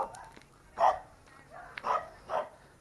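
Several dogs bark in short separate bursts, three or four loud yaps spaced about a second apart, fairly close, over faint background noise on a rural property.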